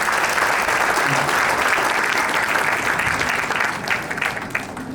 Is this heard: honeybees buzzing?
no